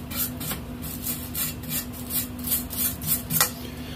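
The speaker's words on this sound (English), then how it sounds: "Knock this flux off." Flux being knocked off a fresh weld on a mini-chopper frame, a rapid run of sharp metallic chipping taps at a steady rhythm, close and fairly loud over a low steady hum.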